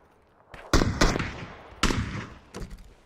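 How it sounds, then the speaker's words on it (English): Gunfire in the battle royale game PUBG, several sharp loud shots in quick succession with decaying tails, spaced over about three seconds and heard alone without talk. "Shot at me. It's a nice shot."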